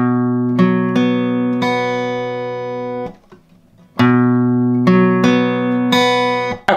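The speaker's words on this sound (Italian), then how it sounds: "Con la mano destra suono quinta, quarta, terza e seconda corda." A guitar arpeggio is picked note by note across the fifth, fourth, third and second strings, clean and close, played twice with a brief pause between the passes and each note ringing into the next.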